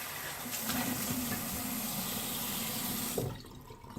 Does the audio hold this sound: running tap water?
yes